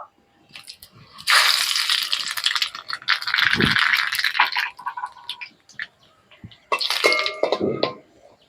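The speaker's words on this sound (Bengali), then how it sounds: "ফোড়নের জন্য তিনটে শুকনো লঙ্কা আর সঙ্গে কালো জিরে নিয়েছি দিয়ে দেবো" Three dried red chillies and nigella seeds crackle and sizzle in hot oil in bursts of loud spattering with short quiet gaps, close by.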